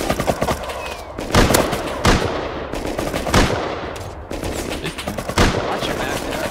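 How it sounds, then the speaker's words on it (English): Gunfire in the survival video game Rust: sustained, loud automatic fire and repeated shots close by, filling the whole stretch with dense cracks and thuds and barely any pause. "We're taking the shot? You taking the shot? Yep. Take the shot!"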